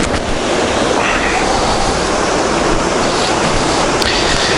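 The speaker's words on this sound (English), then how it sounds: "there's the waterfall just through there." A loud, steady rush of Dawson Falls on Mount Taranaki roars without a break, close and constant with no other sounds standing out.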